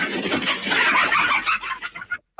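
Chickens cluck and chatter in a busy, overlapping flurry close by, tapering off into a few separate clucks before a short pause.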